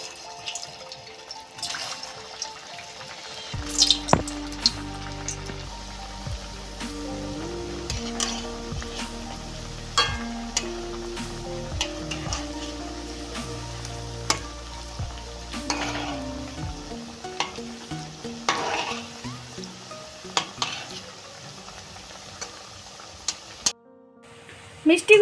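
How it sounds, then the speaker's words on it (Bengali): Semolina and coconut sweets deep-fry in hot refined oil over a medium gas flame, giving a steady close sizzle with occasional clinks and stirring, and a voice speaks now and then. "তেলটা আমি গরম করে নিয়েছি, এবার গ্যাসের ফ্লেমটা মিডিয়ামে রেখে এবার মিষ্টিগুলো ভেজে নেব।"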